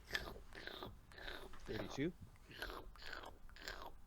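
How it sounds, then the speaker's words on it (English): A creature eating in a tabletop fantasy dungeon game, rendered as quiet, rhythmic wet chewing and slurping bursts repeated about every half second, with soft whispered voices mixed in. "Now you can hear some slurping."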